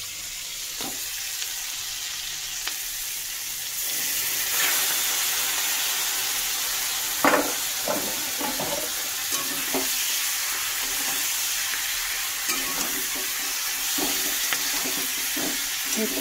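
Bhetki fish fat fries in a pan with a steady hiss and sizzle, broken by scattered scrapes and clatters of stirring that grow busier in the second half; no one speaks.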